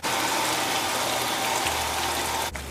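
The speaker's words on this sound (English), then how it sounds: "boiling water" Boiling water pours into a pot of Guyanese lamb curry as a continuous rushing gush, close and steady, then cuts off abruptly near the end.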